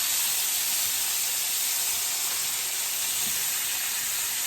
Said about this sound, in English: I'm gonna flip my steak.